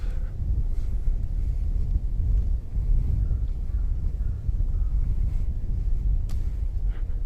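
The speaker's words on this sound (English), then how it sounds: "Ooh, wind is picking up." Wind gusts across a street in Roppongi, Tokyo, a steady low rumble and buffeting against the microphone that holds for several seconds, with faint city noise underneath.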